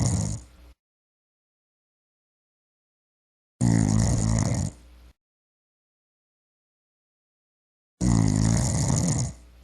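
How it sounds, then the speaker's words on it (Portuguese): A man snores loudly after drinking beer, three long rasping snores separated by silent pauses, close and with no other sound. "Roncando pra caralho."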